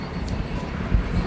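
A fighter jet roars in the Modern Warship naval combat game, a steady broad engine rumble that swells slightly near the end.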